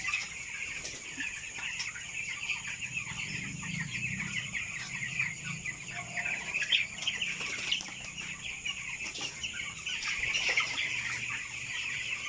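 A flock of 18-day-old broiler chickens clucks continuously in a farm house, a dense, steady chorus of overlapping calls with a faint mechanical hum beneath.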